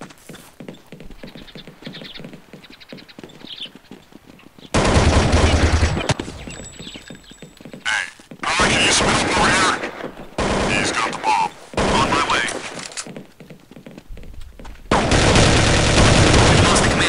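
Loud gunfire from a sniper rifle and Desert Eagle pistol in Counter-Strike: Condition Zero, with several heavy bursts of shots in close succession after a quieter stretch of game ambience.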